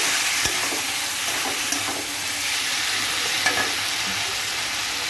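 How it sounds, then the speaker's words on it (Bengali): Prawns sizzling loudly in spice masala in a pan, with steady frying hiss and a few sharp spatula scrapes as they are stirred, up close and without voices. "ভালো করে মশলার সাথে চিংড়ি মাছগুলো ভাজা ভাজা করে নেব"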